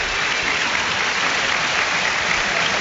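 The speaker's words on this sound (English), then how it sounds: "Yes, you can hear the applause there" A football crowd at a Premier League match, AFC Bournemouth against Chelsea, applauds as substitute David Brooks comes on. The clapping is a steady, dense wash that holds at an even level throughout, with no voices standing out.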